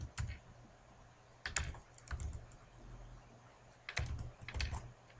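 Typing on a computer keyboard while setting up an installer, several short bursts of soft key clicks separated by quiet gaps, close and fairly faint.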